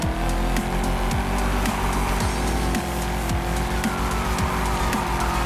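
Car drifting in the racing game Forza Horizon 5: loud continuous engine roar with repeated tire squeals and skidding bursts sweeping through the mix, dense and sustained over several seconds.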